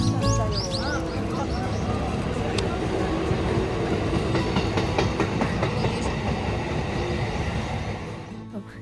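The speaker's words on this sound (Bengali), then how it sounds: "এই দেখো, তোমাদের বলতে বলতে একটা ট্রেন আসছে।" A train passes close by near a viral cherry blossom spot in Japan, loud rumbling and clattering wheels building and holding steady before easing off at the end.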